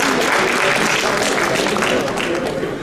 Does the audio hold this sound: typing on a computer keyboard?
no